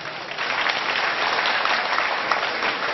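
Steady, dense applause from an audience at an award ceremony for cashew-sector farmers, loud and continuous for the whole span with no talk over it.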